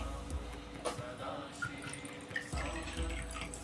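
Water trickles and splashes softly as it is poured into a pot (kalash) during Maha Shivaratri ritual preparations, a faint, continuous pouring with slight shifts in flow.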